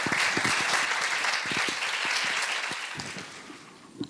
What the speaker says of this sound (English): can you join me and give her a round of applause as she walks to her seat